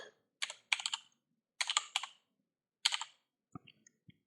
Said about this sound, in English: Within the quotes, we're going to type in the command